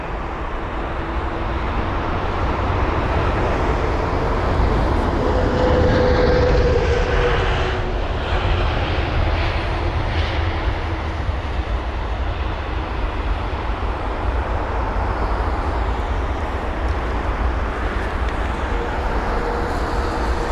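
A Virgin Atlantic airliner, G-VRAY on flight VS132 from Bridgetown, lands on runway 27R at London Heathrow with a loud sustained jet roar that swells and holds for about twenty seconds.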